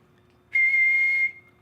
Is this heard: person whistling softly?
yes